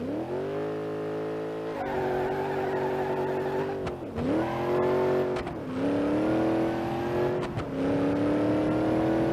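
A small-block drag car engine on a 150 shot of nitrous revs hard in BeamNG.drive, loud rising engine tones climbing through several gear shifts with brief drops between, close and continuous with no talking.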